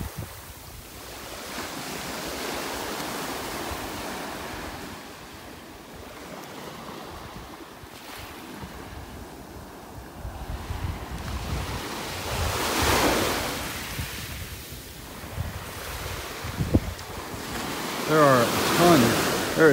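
Ocean waves roll and break on a beach in North Naples, Florida, a continuous wash of surf with swelling crests, mixed with gusty wind buffeting the microphone and a brief bit of speech near the end.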